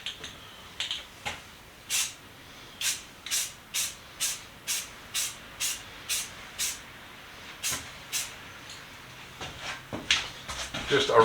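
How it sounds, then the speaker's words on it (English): Short bursts of red spray paint hissing out in a steady rhythm, about a dozen quick sprays close by with brief pauses between them, in a workshop. "I'm going to spray the red first."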